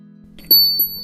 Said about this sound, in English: The bell above the door jingles as you step inside.